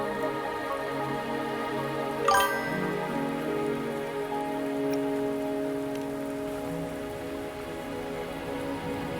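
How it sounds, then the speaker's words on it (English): Steady rain falls in the video game Wuthering Waves, an even patter on surfaces lasting throughout with a faint chime near the start, no voices. "Are you trapped here by the rain?"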